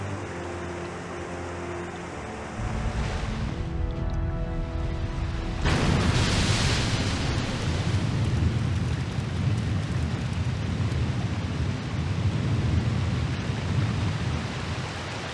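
Water in Raw Danger, a steady rushing wash that swells up after a low rumbling start and carries on loudly as constant flowing, splashing noise to the end.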